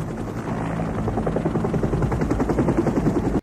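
Helicopter from a scene in the 1987 film Predator: a loud, close, steady rotor chop with fast rhythmic thumping that swells slightly, then cuts off abruptly at the end.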